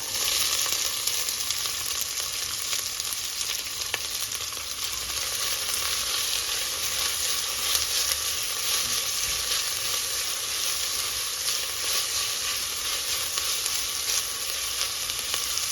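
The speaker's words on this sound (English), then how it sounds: "We're just going to let this saute for about 4 minutes on low heat until the onions and the peppers begin to change color" Onions with green and red peppers sauté in oil in a pan on low heat for a beef stew, giving a constant, even sizzle that holds steady without pause or speech.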